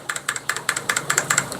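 Typing on a mechanical keyboard with old keycaps and brown switches: a steady run of about eight crisp, evenly spaced keystroke clicks, close and clear with no talking.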